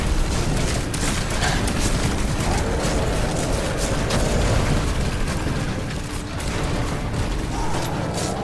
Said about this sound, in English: Second grenade out.